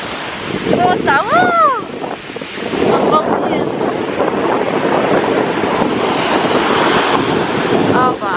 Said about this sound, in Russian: Волны, кстати, доходят аж сюда.